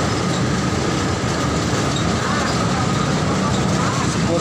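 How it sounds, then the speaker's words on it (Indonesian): Steady rolling rumble and rattle of a small narrow-gauge sugarcane freight train passing nearby, constant and loud throughout with no break. "Ini kereta api pengangkut tebu yang handal."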